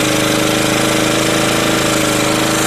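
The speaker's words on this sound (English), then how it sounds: "So basically using this jar as an evaporative carburetor at the moment, just running on pure petrol." A small engine runs on pure petrol fed through a jar used as an evaporative carburetor, giving a loud, steady, continuous mechanical drone with a fast pulsing rhythm and no speech.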